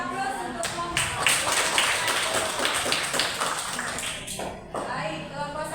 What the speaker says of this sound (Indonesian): Kita sedang memberikan aplaus untuk kelompok 1